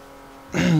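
Race car engines from the video game Forza 4 surge in abruptly after a near-silent start, a loud, steady droning roar with strong tonal harmonics holding through to the end.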